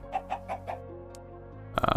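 Minecraft chickens in a Sky Factory 3 modpack cluck in four quick evenly spaced clucks, followed by a sharp burst of another game sound, over a faint steady tone.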